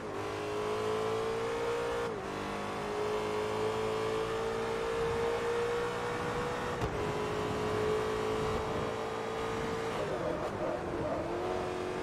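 Ferrari engine in Forza Motorsport 3 racing, a loud, sustained high-pitched roar holding steady with brief dips at gear shifts, close and continuous throughout.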